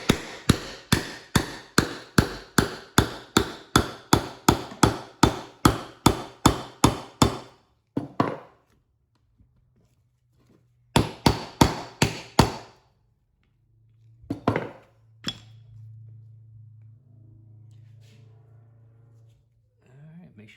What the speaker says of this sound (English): So take her like this and just hammer her on down.